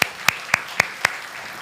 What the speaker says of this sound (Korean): 하나님께 영광의 박수를 올립니다